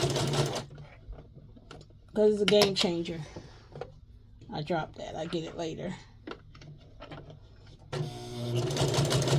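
A sewing machine fitted with a walking foot runs in short bursts of rapid stitching, alternating with a person talking and brief pauses.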